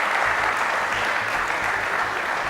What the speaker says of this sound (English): No, you should clap for her.